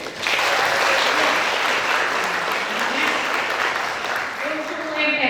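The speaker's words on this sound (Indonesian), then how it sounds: "Tepuk tangan anakku." Students at a school pledge ceremony in a hall are applauded with loud, sustained clapping from a large crowd, dense and even throughout, with a voice entering faintly near the end.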